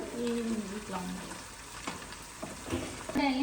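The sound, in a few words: onions frying in a pan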